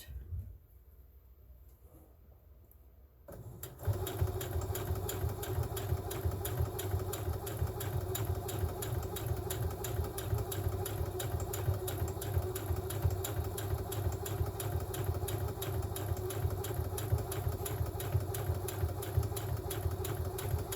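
A sewing machine stitches fabric for decorative party bunting, its motor starting after a few seconds of near silence and then running steadily with a fast, even mechanical clatter close by.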